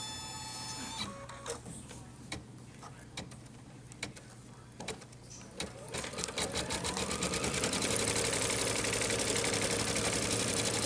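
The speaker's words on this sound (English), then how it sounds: "when I advance at this point, it's going to lay the placement stitch for my snowman" Embroidery sewing machine laying a placement stitch outline for a snowman motif on a black background, a rapid steady mechanical stitching rattle that builds and grows louder toward the end, heard close and alone.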